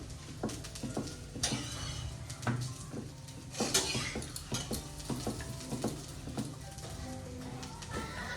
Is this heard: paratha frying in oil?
yes